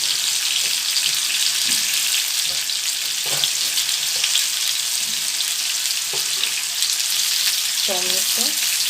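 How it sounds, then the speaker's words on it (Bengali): Onion frying with ginger-garlic paste in a pan, giving a loud, close, continuous sizzle with occasional soft stirring knocks and scrapes, and no speech. "এবার এর মধ্যে আমি পেঁয়াজটা পরে দিচ্ছি।"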